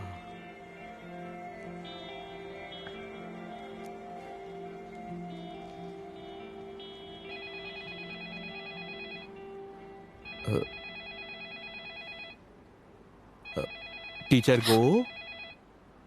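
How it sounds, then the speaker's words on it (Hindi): A telephone rings in short electronic bursts, fairly close, with several rings near the end, under steady background hum and some quiet talk. "आपका फोन बज रहा है।"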